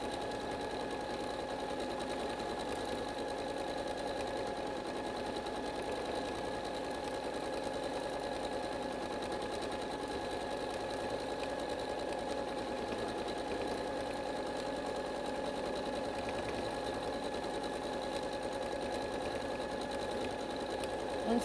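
A sewing machine quilts the outer edge of a trapunto piece, running at a steady continuous hum with a fine rapid needle rattle, close and unbroken throughout with no talk.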